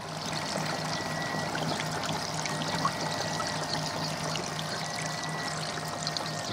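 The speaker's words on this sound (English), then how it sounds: "I've got hose in the gutter, but it's running that fast at the moment. It fills the gutter up and goes over the top as well." Water from a garden hose fills a gutter and spills over its edge in a steady, close pouring and trickling stream that does not change, with no voices.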